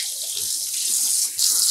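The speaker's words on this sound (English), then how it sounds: "Now I'm going to add some lukewarm water" Lukewarm tap water runs steadily into a yarn dye pot, a loud continuous close gush that briefly dips and then surges again.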